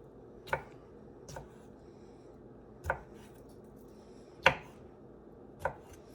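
A knife chops ingredients for an Italian chopped salad on a cutting board: five separate, sharp, close chops come at irregular intervals over a quiet background, with no talking.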